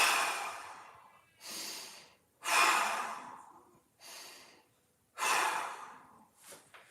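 Deep, audible breaths are drawn in and let out during a standing foot-grab stretch, five slow, airy inhale-exhale swells spaced about a second apart, close and fairly quiet.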